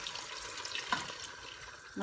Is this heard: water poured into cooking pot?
yes